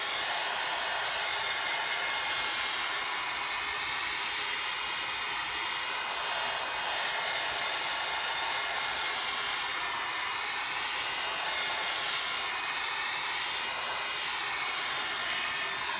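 A handheld dryer blows without pause at close range, a loud steady whir and rush of air over stencil paint on canvas, with no speech.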